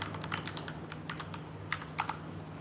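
Rapid keystrokes clatter on a computer keyboard, a close, quick run of light taps with a few louder presses near the end, alone without speech over a faint steady hum.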